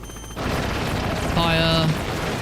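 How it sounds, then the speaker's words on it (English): Explosion in the video game Death Stranding: a sudden broad boom erupts and holds as a dense rumbling roar with a brief tonal whine layered on top, loud and continuous to the end. "Right, wait for it to explode."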